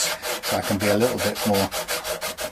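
Sandpaper rubbed over a guitar fingerboard in a superstrat setup, a steady run of quick, rhythmic back-and-forth strokes, close and fairly loud, with a voice talking over them.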